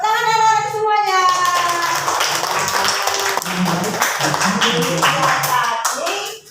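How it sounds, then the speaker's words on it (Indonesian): Children clap their hands in a classroom after a lesson on social norms, a brief burst of clapping mixed with a teacher's voice and children's chatter, fading out at the end. "Tepuk tangan anak-anak semuanya."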